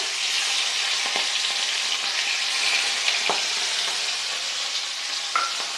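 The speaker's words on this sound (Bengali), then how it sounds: "দিয়ে দেব নুন হলুদ মেখে রাখা ইলিশ মাছের মাথা।" Salted, turmeric-coated hilsa fish head frying in hot oil, giving a steady, fairly loud sizzle with a few soft clicks and stirring touches throughout, with no voices.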